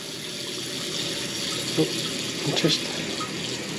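A tap runs steadily into warm water in a sink, filled to wash a bronze mallard duck's feathers before dyeing, a continuous close splashing stream with a few brighter splashes and a voice briefly talking over it.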